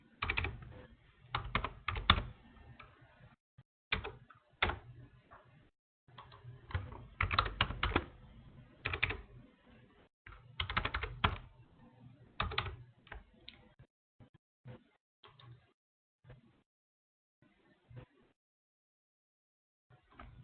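A password typed on a computer keyboard: bursts of quick, close key clicks with short pauses, thinning to scattered single taps toward the end.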